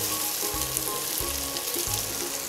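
Onion, garlic, chili and lemongrass sizzle loudly in a hot pan, a dense continuous hiss with soft regular thuds as the mix is stirred, close and without talk.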